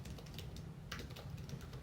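Soft typing on a computer keyboard under a steady background hiss, a handful of faint key clicks spread across under two seconds.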